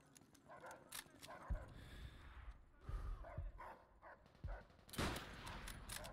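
Attack dogs bark and snarl in the World War II shooter Call of Duty: World at War. Scattered barks and yelps come amid gunfire and thuds, mixed with quiet game ambience at a low overall level.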